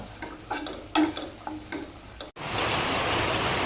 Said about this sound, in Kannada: ನೋಡಿ ಇಲ್ಲಿ ಕಬಾಬು ಫ್ರೈ ಆಯಿತು ಒಂದು ಬ್ಯಾಚ್ ಫ್ರೈ ಮಾಡಿ ಆಯಿತು